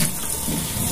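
Tap water pours steadily over frozen shrimp in a tub, a close, full gushing splash that fills the short moment without pause.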